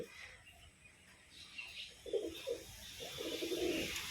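Pigeons coo indoors in soft, low, throaty bursts, several repeated calls close by, with faint background noise in between.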